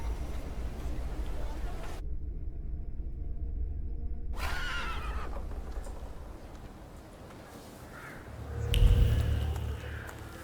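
A horse whinnies and snorts in the video game The Thaumaturge, the neigh rising briefly among ambient game noise and a low rumble, with a voice speaking around it.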